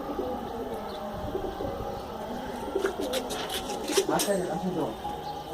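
Soft coos from a jet-black pigeon at a club pigeon show in Kolkata come and go among background murmur and shuffling, fairly faint and mixed with other noise.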